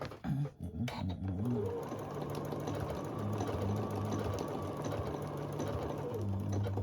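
A domestic sewing machine stitches a small table runner, a steady close whirring hum with a fast mechanical rhythm running continuously after a few brief stops and starts at the beginning.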